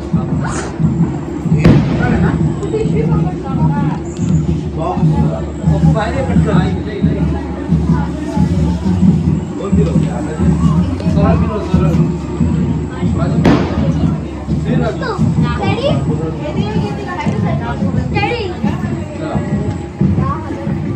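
Firecrackers burst with sharp bangs amid a dense, loud crowd at a village Ganesh immersion procession, with constant chanting and chatter over a low rumbling din, the cracks standing out intermittently.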